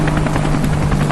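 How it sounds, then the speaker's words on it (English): Close, loud rotor thumping of a low-flying wide-bellied InGen Construction helicopter, a steady rapid beat over a constant engine drone. "a low rhythmic thumping noise. Suddenly, a wide-bellied helicopter burst low from the clouds"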